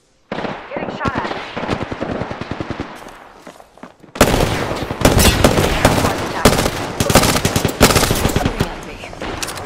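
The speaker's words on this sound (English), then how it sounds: "Getting shot at." Apex Legends gunfire: bursts of rapid shots crack and rattle, quieter and scattered at first, then an abrupt surge into loud, sustained volleys that continue almost without pause.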